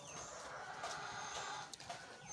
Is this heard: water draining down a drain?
no